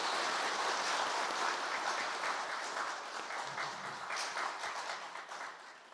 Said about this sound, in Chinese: 鼓掌，我们学习。